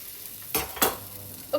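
Red onion frying in a pan hisses softly while a utensil makes two quick stirring scrapes.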